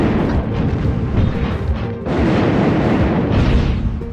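Missile explosions in the video game Steambot Chronicles, loud rumbling booms that roll into one another in a continuous barrage, with a short break near the middle.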